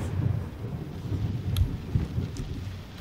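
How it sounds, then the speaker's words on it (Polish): Thunderstorm in the horror game Layers of Fear, a low continuous rumble of rain and distant thunder with a couple of faint sharp crackles, no speech. "Tam jest burza."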